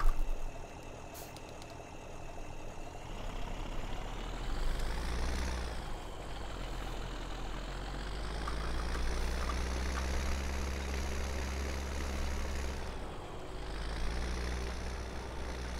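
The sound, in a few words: tractor engine in Farming Simulator 17 video game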